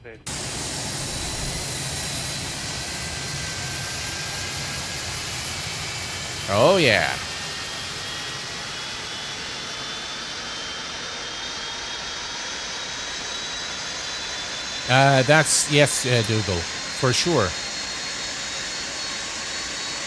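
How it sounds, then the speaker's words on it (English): Steady jet engine roar of a Felis 747-200 spooling up during engine start in the flight simulator X-Plane 12, a continuous loud drone with a rising tone, interrupted by brief bursts of speech. "And now we can see the engine starting."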